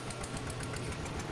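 Engine of a car heading to an orchard in Thailand, a steady low idling rumble with a faint knocking pulse, continuous and close with no talk.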